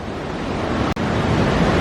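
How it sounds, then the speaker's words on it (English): Rushing water of Niagara's Horseshoe Falls on the Canadian side makes a steady, dense roar that fills the whole clip, broken only by a momentary dropout near the middle. "you can see the bulk of the water flowing down towards the Canadian Horseshoe Falls"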